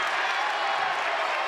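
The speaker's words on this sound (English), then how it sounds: "From the clapping and cheering by the Chiefs" A loud, steady roar of crowd cheering and clapping fills a high school boys basketball playoff gym as Cherokee fans react, a broad unbroken wash of noise.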